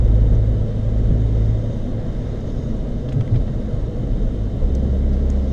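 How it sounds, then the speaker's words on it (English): A Ford Fiesta ST with a small turbo, running an E30 fuel blend, drones with a low, steady engine rumble from inside the cabin while downshifting, a dense, even hum with no talking. "I know, I'm downshifting to help slow me down."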